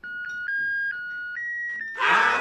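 A musical birthday candle chirps a thin electronic tune, a series of clear beeping notes, before a sudden burst of rustling noise cuts in.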